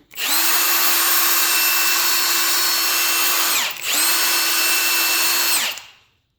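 A Milwaukee M18 FUEL 1/2-inch high-torque impact driver whirs steadily at a high pitch for several seconds in its fourth, drill mode, pauses briefly, then spins up again before winding down.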